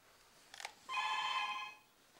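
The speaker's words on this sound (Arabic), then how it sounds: "تليفون تليفون" A telephone rings in a single bright electronic trill burst lasting about a second, close and clear, following a short click, with no talk over it, set in a family comedy scene at home.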